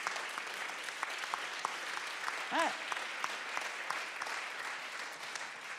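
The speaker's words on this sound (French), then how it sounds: "Vous êtes en train d'applaudir Noémie Delattre" A theatre audience applauds performer Noémie de Lattre with steady, even clapping throughout, while a voice briefly speaks over it partway through.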